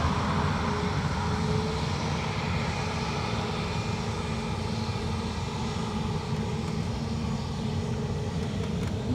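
A Ryanair jet departing Dublin Airport for Marseille roars steadily with dense, loud engine noise and a faint whine, close and unbroken from start to finish.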